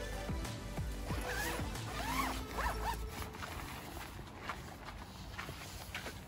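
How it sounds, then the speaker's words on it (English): A zip on a 4WD shower awning is pulled open in several quick rasping strokes, close and clear, followed by softer rustling and handling of the fabric. "Alrighty, so there's a zip down the bottom."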